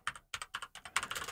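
Rapid keystrokes on a computer keyboard while a preset name is entered in Affinity Photo, about a dozen close, crisp clicks in quick bursts with a short pause near the start, no voices.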